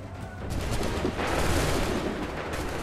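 A volley of muskets in Assassin's Creed 3 fires as a dense, booming burst of gunfire that rolls on for about three seconds, loud and close.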